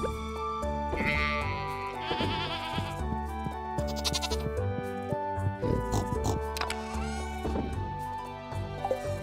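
Goats bleating on a farm in a video game, over a busy musical game soundtrack, with repeated bleats standing out at a steady loudness throughout.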